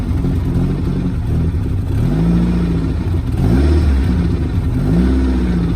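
A car engine idling roughly and being revved in short bursts, the pitch rising and falling several times up close.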